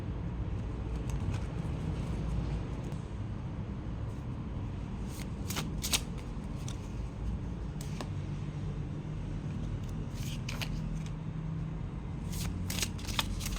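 Tarot cards being shuffled close by in a steady, soft riffling whisper, with a few sharper card snaps and flicks scattered throughout.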